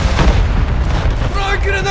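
A grenade explosion in a Call of Duty Modern Warfare 3 multiplayer match, a loud, heavy boom rumbling through a busy firefight, with shouted voices over it.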